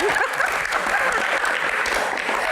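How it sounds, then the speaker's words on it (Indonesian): A crowd claps steadily for a couple of seconds, dense and even, with faint voices mixed in. "Tepuk tangan."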